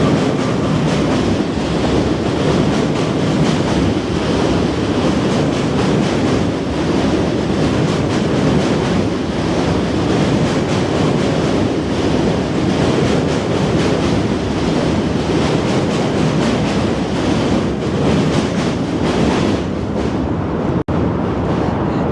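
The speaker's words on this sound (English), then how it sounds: "This was N train." A New York City subway N train rolls past on the route between Brooklyn and Manhattan. A loud, steady rumble with rattling wheels continues for over twenty seconds, close by and with no talking.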